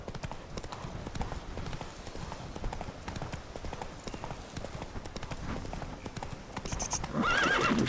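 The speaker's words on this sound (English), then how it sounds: "Let's get back on the horse. And let's ride." Roach the horse trots along in The Witcher 3, hooves clip-clopping in a steady rhythm throughout, with a whinny near the end.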